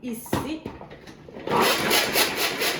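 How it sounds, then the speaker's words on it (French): Garlic cloves being chopped in an Extra Chef manual chopper, a few sharp clicks and short grinding pulls early on, then a louder continuous rattling whir close by, with a brief spoken word at the start. "je vais commencer avec pas l'oignon, mais bien l'ail, ici que je vais hacher dans mon extra chef"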